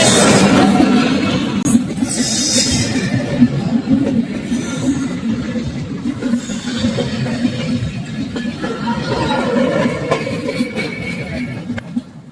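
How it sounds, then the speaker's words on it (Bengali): A train rolls past on a railway line beside a roadside tea spot, producing a steady, loud rumble with scattered metallic clinks and rattles over about twelve seconds and no horn. "এখন হচ্ছে ট্রেন যাচ্ছে"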